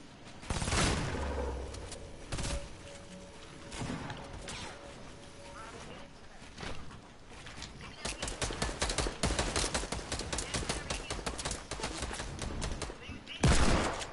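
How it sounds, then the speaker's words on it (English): Rapid automatic gunfire in a console shooter played in a duos match: a few scattered shots early on, then a long, dense run of fast bursts near the end, loud and close, with a voice heard briefly. "who's shooting me down?"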